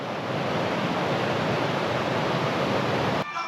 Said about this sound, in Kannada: ಇದು ಒಂದು ಮಿನಿ ವಾಟರ್ ಫಾಲ್ ಇದೆ. ಇಲ್ಲೊಂದಿದೆ ನೋಡಿ, ಅದೇ ನೀರು ಹರ್ಕೊಂಡ್ಬರ್ತಾ ಇದೆ.